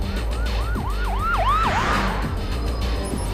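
A police siren from the Watch Dogs video game wails in a loud, steady up-and-down sweep, repeating several cycles before fading into traffic rumble, with no talk over it.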